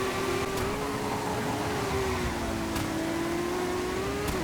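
In the FiveM racing game on a wet track, a race car engine holds a steady mid-pitched drone with small throttle wobbles, accompanied by faint clicks of input.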